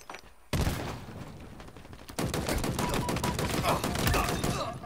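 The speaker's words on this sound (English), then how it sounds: "Oh crap, I'm getting sniped." Rapid bursts of sniper and automatic gunfire in a Halo Infinite capture-the-flag match, loud and dense, starting abruptly after a quiet moment and continuing in heavy volleys.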